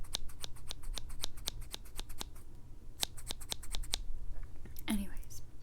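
Scissors snip steadily at makeup brush bristles, sharp close clicks in quick bursts separated by short pauses, with a brief soft rustle near the end and no talking.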